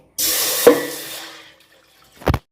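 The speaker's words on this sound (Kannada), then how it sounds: "ಅದಕ್ಕೆ ನಾನು ಸ್ವಲ್ಪ ಈಗ ನೀರು ಹಾಕಿಕೊಳ್ತಿದ್ದೇನೆ" Water is poured into a pan for making semiya payasam: a splashing rush runs for just over a second, fades away, then a short second gush follows after a pause.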